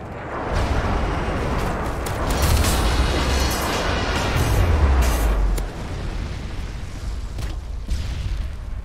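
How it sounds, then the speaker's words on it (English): Airstrike explosions rumble through Call of Duty Modern Warfare 2 multiplayer, a continuous heavy roar of booms and bursts with sharp cracks layered over it, loud and dense for several seconds. "Friendly airstrike inbound."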